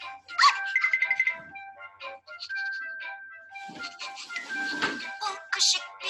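A small puppy yips and whimpers in short, high bursts amid gentle chiming tones in a children's Kazakh language lesson, with brief pauses between the cries.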